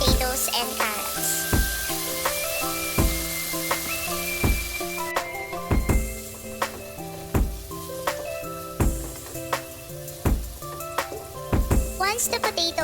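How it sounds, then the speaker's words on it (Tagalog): Potatoes and carrots pan-fry in hot oil for a pork picadillo, giving a continuous close sizzle broken by regular sharp clicks and clatters from the pan. "once the oil is ready, we are going to pan fry the potatoes and carrots"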